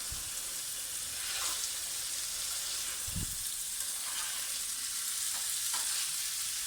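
Tomatoes, capsicum and cabbage roasting in a pan with already-cooked ingredients, giving a steady close sizzle with a few louder stirring scrapes and clatters.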